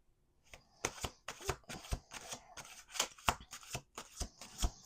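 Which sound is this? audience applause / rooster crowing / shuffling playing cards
shuffling playing cards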